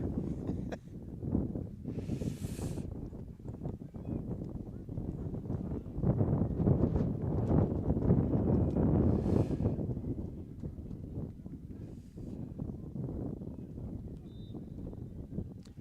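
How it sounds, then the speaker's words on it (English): Gusty wind buffets the microphone outdoors at a rainy varsity soccer championship game, with low rumbling surges rising and falling over about sixteen seconds. "Now it's not only raining, now it's windy."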